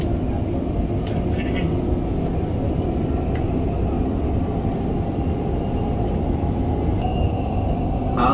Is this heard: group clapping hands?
no